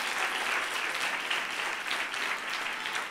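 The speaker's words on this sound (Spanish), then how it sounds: "ese aplauso, Samuel, que estuvo ahí." An audience applauds a child contestant named Samuel at a children's reading-aloud contest, a steady moderate burst of many hands clapping for about three seconds.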